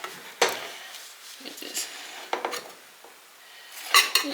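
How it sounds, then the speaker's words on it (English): A knife works around the edges of freshly baked banana bread in a hot baking pan, making a few close metallic scrapes and light clinks with quiet gaps between. "So get your knife or whatever you're using, whatever, and just kind of get it up a little bit."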